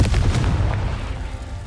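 A Confringo spell explosion in the video game Hogwarts Legacy lands as a loud, brief, booming burst with a rumbling low-end tail.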